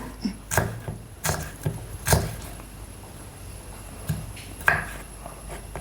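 A knife chops small onions (shallots) finely, giving a handful of sharp, close taps spaced irregularly across a quiet kitchen background with no talking.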